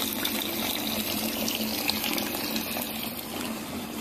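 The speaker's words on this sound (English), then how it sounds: "I'm now filling it approximately halfway with water." Tap water pouring steadily into a cup, filling it about halfway, as an even, close gushing hiss with no talk.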